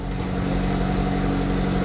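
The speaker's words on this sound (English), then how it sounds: "This is the loudest freaking car on the planet." A loud car engine idles with a deep, steady rumble, close and continuous, with no voices over it.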